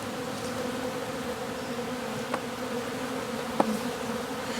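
Honeybees hum in a dense, steady drone inside a vented top bar hive, close and continuous, with a couple of faint knocks.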